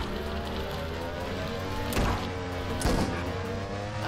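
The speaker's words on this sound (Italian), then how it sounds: "Amo il motorino, ragazzi." Scooter engine in the battle royale video game GangV hums steadily throughout, with a couple of brief sharper bursts like skids or impacts partway through.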